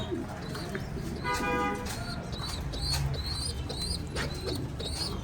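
Pigeons coo in a loft, a continuous low, close chorus of throaty calls with a few higher chirps and a short honk-like tone over a busy background.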